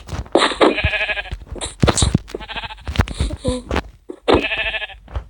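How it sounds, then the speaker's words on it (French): Several loud, close sheep bleats from a video game, each a wavering nasal cry repeated in bursts, with brief player talk mixed in. "Des petits moutons."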